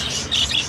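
Pet parakeets in a Filipino home aviary chirp in quick, bright tweets that rise and fall over a brief moment, fairly close with no talk.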